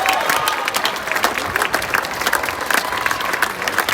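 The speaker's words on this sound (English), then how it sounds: "Now continue that applause" Steady applause from a crowd at a welcome-home celebration for Australian Olympic and Paralympic athletes in Perth, dense clapping with a few cheers running close and loud throughout.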